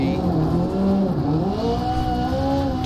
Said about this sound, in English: God, that engine sounds so good.